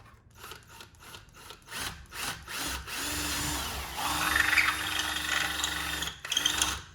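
Bursts of a power drill whirring while drilling holes for inserts, first in short pulses, then longer sustained runs with rising pitch, close and fairly quiet.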